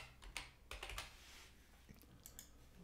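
Typing on a computer keyboard, with quiet bursts of close, crisp key clicks spaced irregularly.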